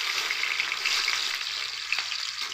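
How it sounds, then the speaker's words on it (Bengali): Paneer pieces frying in plenty of hot oil for a Punjabi paneer chana masala, giving a steady, close crackling sizzle that runs throughout with no talk. "আমি এরকম করে দুদিকেই কিন্তু উল্টে পাল্টে ভালো করে ভেজে নেব।"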